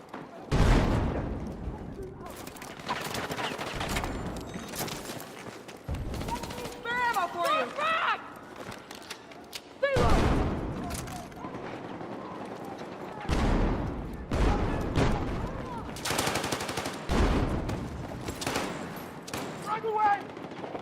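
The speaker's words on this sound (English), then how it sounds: "here come the grenade launchers" Grenade launchers and gunfire in a Team Fortress 2 style shooter game, with repeated loud bursts and booming blasts at irregular intervals, punctuated by mechanical clicks, and a voice talking over the action.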